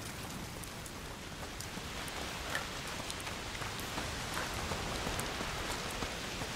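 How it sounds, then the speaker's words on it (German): Steady rainfall in A Plague Tale: Requiem, a dense even hiss of drops pattering on surfaces, close and continuous with occasional louder splashes, no talk. "Mieser Regen."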